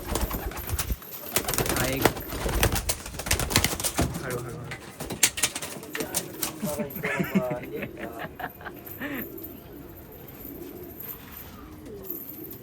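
A large blue grizzle pigeon coos in a loft, with throaty rolling coos that stand out midway through while people talk loudly nearby.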